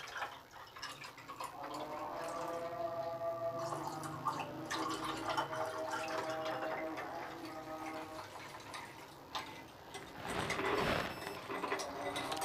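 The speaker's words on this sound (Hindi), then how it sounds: "और अभी हम इसके अंदर पानी शामिल करेंगे" Water poured into homemade falsa (phalsa berry) sharbat over ice, a steady close trickle and gurgle of liquid filling a glass for several seconds, with a louder splashy burst near the end and no talk.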